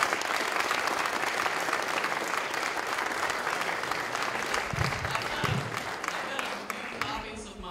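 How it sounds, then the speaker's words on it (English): Steady applause from a conference audience for a panel at a political convention, a broad, even wash of clapping filling the room with a few louder claps and faint voices beneath. "Let's have a round of applause for our panel."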